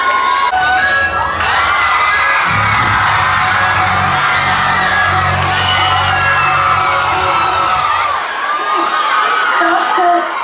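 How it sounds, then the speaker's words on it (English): A loud crowd of children at a Children's Day school performance cheers and shouts continuously, a dense, excited roar with whoops and bangs mixed in and no letup. "So get ready to clap and cheer"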